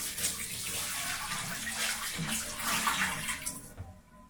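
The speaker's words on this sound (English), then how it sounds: "we're going to pour the water in the sink and let that flow down" Warm water poured into a sink flows steadily down the drain, a continuous close rushing and splashing that fades out near the end.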